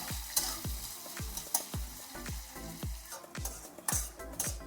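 Sliced onion, long-cut ginger and garlic fry in hot oil in a pan with a constant close sizzle, punctuated by regular scraping strokes of a stirring spoon roughly twice a second.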